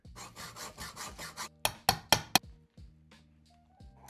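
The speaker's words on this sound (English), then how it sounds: "I resorted to using a hacksaw to cut a flat blade into here." A hacksaw cuts a slot into a seized screw on a Harley-Davidson CV carburettor, giving about seven steady rasping strokes, then several sharp knocks and quieter scraping and clinks, close and loud with no talking.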